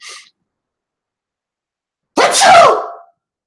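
A single loud sneeze bursts out after a long silence, preceded by a faint brief sound at the very start.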